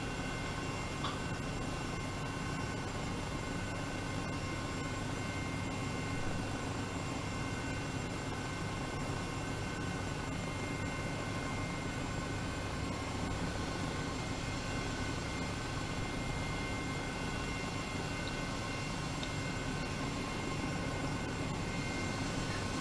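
A Eurocopter EC135 helicopter flying in Microsoft Flight Simulator 2020 gives a continuous dense rotor and turbine roar, loud and unchanging throughout with no pauses.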